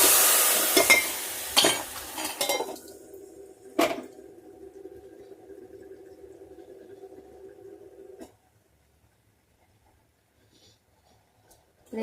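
Tempering being stirred into dal, with a loud sizzle and scraping of a spoon against the pot at first, fading to a steady soft simmering hiss that stops abruptly, leaving near silence.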